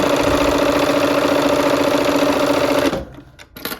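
A sewing machine stitches quilt pieces for a window pane block, running steadily and loud at close range for about three seconds, then stopping abruptly, leaving a few faint handling noises.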